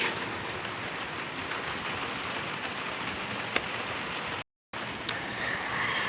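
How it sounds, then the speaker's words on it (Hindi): Soft, steady patter of light rain falling continuously, with a couple of faint drips and a brief dropout near the end. "रिम झिम वाली बारिश"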